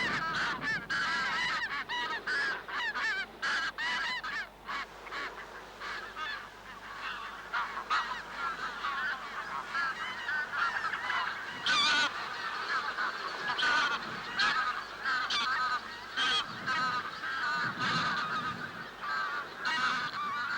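A large flock of greylag geese honks continuously, dense overlapping calls from many birds at close to middle distance, loud and unbroken throughout with no voices.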